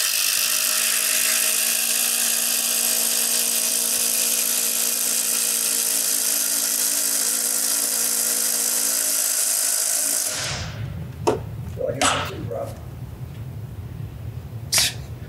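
A Craftsman power tool runs loud and steady for about ten seconds in a head-to-head race against other brands, then cuts out, leaving a few sharp knocks and clatters nearby.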